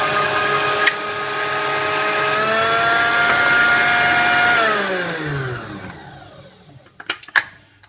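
Kenwood Chef A701 mixer motor run with the gearbox removed, spinning flat out with a steady loud whine and hum, then winding down in falling pitch as it is switched off, followed by a few clicks and knocks.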